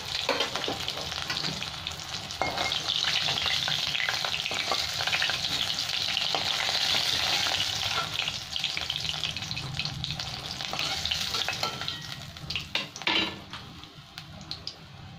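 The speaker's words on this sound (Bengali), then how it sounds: "আর একটু আছে মাছ, সেগুলো ভেজে নেবো লাল লাল করে রকম।" More fish pieces frying in oil until reddish brown for a Bengali fish curry, a continuous close sizzle and crackle with scattered stirring scrapes and a few sharp pops.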